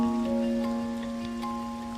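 Heavy rain falls as a steady, even wash of noise, with a sustained tonal drone running underneath it throughout.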